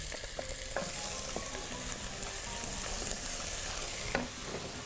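Onion frying in oil for a rice (risotto) dish, stirred with a wooden spoon: a steady, close sizzle runs throughout with occasional soft scraping knocks of the spoon, no talking.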